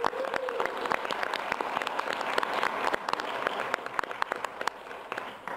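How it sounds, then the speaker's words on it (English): Applause from the audience at a town council meeting: steady, moderately faint clapping that continues throughout with scattered sharp individual claps. "join me in giving you a round of applause for your commitment to the town"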